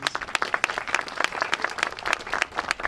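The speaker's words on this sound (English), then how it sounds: "We'll give them another round of applause, please." A crowd applauds, many hands clapping in a dense, irregular patter at moderate volume, continuing steadily throughout.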